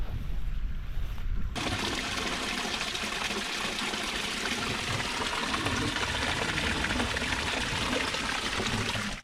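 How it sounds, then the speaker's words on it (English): A creek where two streams meet rushes steadily close by in the woods, a continuous broadband wash of flowing water that stays loud and even throughout, with a brief change in tone at the very start. "You can hear the creek both sides, over here"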